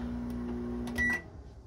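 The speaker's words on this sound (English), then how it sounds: "Microwave, it works no problem." A microwave oven in a 2020 Lance 650 camper runs with a steady low hum and a faint higher whine, then gives a short louder burst near the end. No one talks over it.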